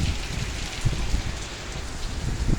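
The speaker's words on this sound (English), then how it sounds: "Look at the rain over there." Very hard rain pours down outdoors near trees and a roof during a windy storm, a dense, loud, continuous patter with heavy drops close by.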